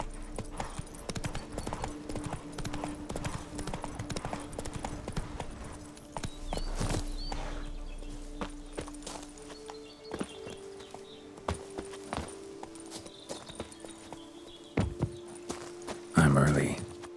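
Horse hooves gallop in steady clip-clop rhythm through The Witcher 3 video game, close and continuous beneath a sustained music drone, with a brief louder burst near the end.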